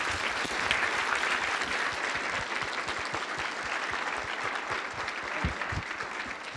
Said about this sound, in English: Another round of applause for Eboo.